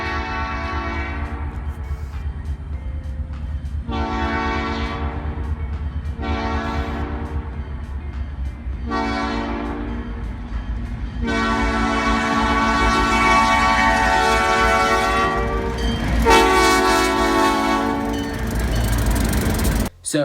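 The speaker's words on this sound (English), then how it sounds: "here's a horn sample from 66" Buell B5 air horn on MSE locomotive 66, sounding a series of loud, close chord blasts: several short honks followed by longer sustained blows, with engine rumble underneath and no talk.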